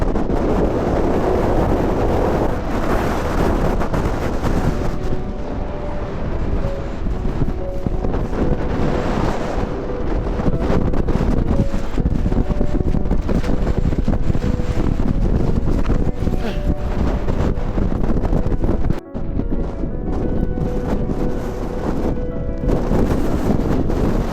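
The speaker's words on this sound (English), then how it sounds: "This is a pretty high peak right here. Very windy." Strong wind roars steadily and loudly against the microphone on a high mountain peak at Donner Summit, Lake Tahoe, California, with heavy buffeting gusts throughout.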